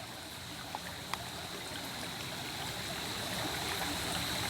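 Creek water at Frog Creek flows at night in a steady, even rush with a faint trickle, continuous and moderately near, with no voices.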